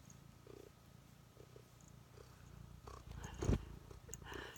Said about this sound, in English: he is such a loud purr